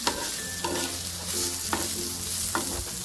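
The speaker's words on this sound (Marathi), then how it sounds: "चला आपला कांदा थोडासा भाजत आलाय" Onion with bedgi chilli, cinnamon, cloves, peppercorns and star anise frying in a pan for kathwada, a steady close sizzle broken by sharp scrapes of a spoon stirring at intervals, with a low background hum.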